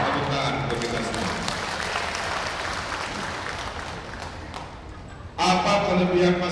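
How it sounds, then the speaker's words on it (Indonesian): Crowd applause at an Indonesian political campaign gathering, a dense, sustained clapping wash that cuts off abruptly as a voice takes over near the end. "Tepuk tangan untuk kita semua."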